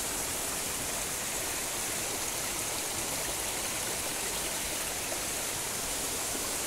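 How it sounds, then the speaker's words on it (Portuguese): A creek fed by overflowing dams in the Bahia backcountry rushes over a small waterfall, a loud steady broadband roar with no pauses or voices. "está passando aqui água nesse riacho"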